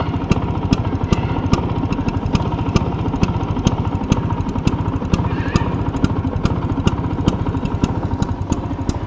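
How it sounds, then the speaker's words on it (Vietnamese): A restored vintage Vespa Standard VBB2 scooter idling close by, its exhaust putting out loud, evenly spaced individual beats in a steady, slightly uneven mechanical rhythm with light clatter, no voices over it. "Đó anh chị nghe không, cái tiếng bô mà nó rời ra từng tiếng luôn anh chị."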